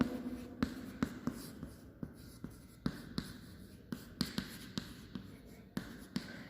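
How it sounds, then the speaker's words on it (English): Pen strokes on paper while copying out a skeletal chemical equation for a redox reaction, a quiet scratching with a string of small sharp taps spaced through the clip, close and soft with no talk over it. "So very first step, we are writing the skeletal equation."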